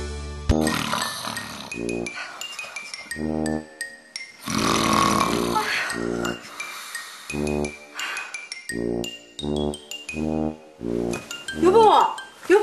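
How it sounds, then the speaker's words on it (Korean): A man snores loudly and heavily after drinking, in a steady run of repeated rasping breaths close by, mixed with occasional light clinking sounds. "술만 먹으면 코골이가 더욱 심해지는 분에게도 코골이 뚝"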